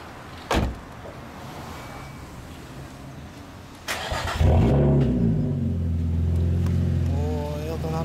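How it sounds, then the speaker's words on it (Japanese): A door thunks shut, then a 2016 Nissan Fairlady Z Version NISMO engine cranks and fires up, revving before settling into a deep rumbling idle close by. "エンジンかけてもらえる？"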